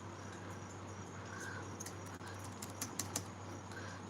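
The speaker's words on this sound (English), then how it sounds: "Sometimes this keyboard connects, sometimes it does not." A computer keyboard typed on softly during a live stream, with a few scattered key clicks over steady low electrical hum, no voices.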